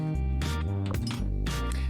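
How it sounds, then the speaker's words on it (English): Clear glass clinks ring out as gin is handled in a glass mixing glass, several sharp taps over a steady low hum. "let's put it in the mixing glass."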